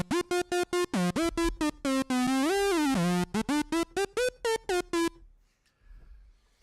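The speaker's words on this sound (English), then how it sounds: "What you're hearing is portamento." A Moog synthesizer plays a rapid staccato run of notes. Portamento glides bend the pitch smoothly up and down between them, loud and alone. The run cuts off near the end, leaving near silence.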